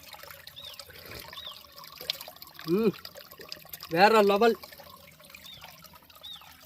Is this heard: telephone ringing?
no